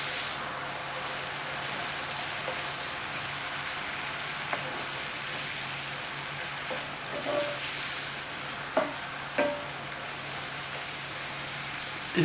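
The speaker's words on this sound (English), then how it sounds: "you want to just saute this up until you kind of smell your garlic flavor" Garlic and shrimp sauteing in butter in a pan: a steady soft sizzle and crackle runs throughout with a low hum underneath, broken by a few faint clinks and taps.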